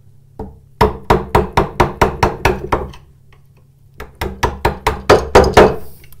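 Chisel struck into wood while cutting a bowtie inlay, two runs of sharp, evenly spaced mallet knocks about a second apart with a short pause between them, loud and close.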